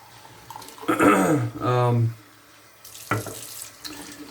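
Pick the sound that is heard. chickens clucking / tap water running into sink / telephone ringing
tap water running into sink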